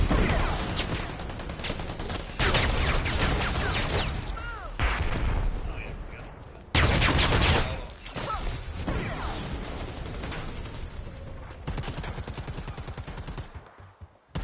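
Tank-game gunfire erupts in loud bursts of rapid automatic fire and heavy cannon blasts, with short pauses between volleys and a dense mechanical rumble underneath.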